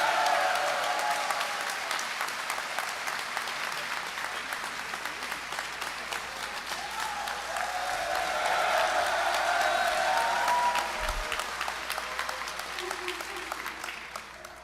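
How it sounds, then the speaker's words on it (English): A large audience at the Arkansas Boys State opening session gives a sustained round of applause, dense clapping from a big hall that holds steady for the whole stretch before tapering slightly at the end. "So please give a round of applause"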